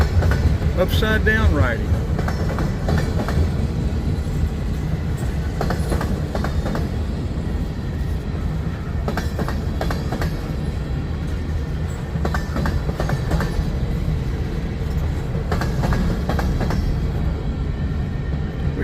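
A CSX freight train rolls past at Resaca, Georgia, a loud steady rumble with clattering wheels and brief squeals throughout, while a voice speaks briefly over it early on.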